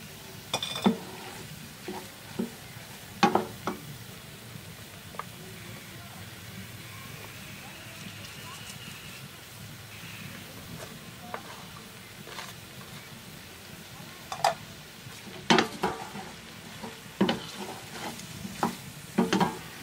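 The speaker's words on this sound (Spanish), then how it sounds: "Ahora le voy a agregar el jitomate y la cebolla." Tomato and onion added to a pan of green beans and egg, frying with a steady low sizzle and sharp scrapes of a spoon stirring against the pan, louder near the end.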